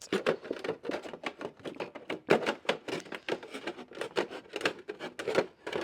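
Scissors snip through a plastic jug being cut for winter sowing, producing a quick run of crisp, close clipping sounds in an irregular rhythm.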